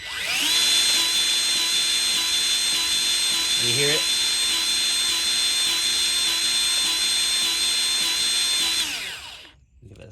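A Milwaukee M12 cordless grease gun runs steadily for about nine seconds as it primes, a loud continuous motor whine with a brief shift partway through, while a voice speaks once over it before it cuts off.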